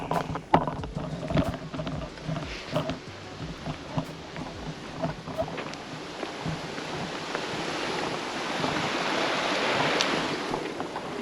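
A mountain river rushes steadily near a bridge in the Valle de Ripera above Panticosa, a broad continuous wash of water with scattered knocks and footsteps nearby, growing fuller toward the end.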